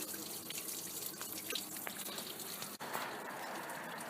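Water runs steadily from a hose, flushing through the cooling system around the engine of a Holden Commodore, a continuous close hiss and splash with faint dripping and no pauses.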